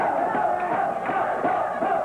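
A wrestling arena crowd cheering and shouting at a match, a dense, loud, continuous roar of many voices that swells and falls without a break.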